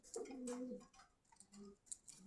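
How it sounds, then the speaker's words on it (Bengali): Soft, low cooing from a pigeon at a market in Meradia, Khilgaon, Dhaka, a couple of short rolling coos, quiet and close, with faint ticking sounds around them. "আরো কবুতর আসতে আছে, ওই যে নিচে আরো আছে, উপরে আছে।"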